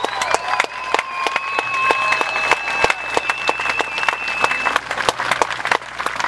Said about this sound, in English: And we please have a round of applause for all of the men guarding us.